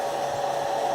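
Hair dryer blowing on ink, a steady, loud, even whoosh of airflow with no change across the short stretch and no voices.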